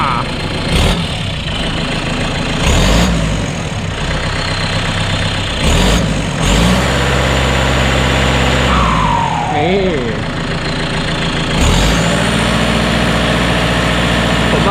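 A turbocharged engine fitted with a two-inch exhaust tip, idling loudly close by with a steady heavy rumble and brief blips of revving, while someone talks over it.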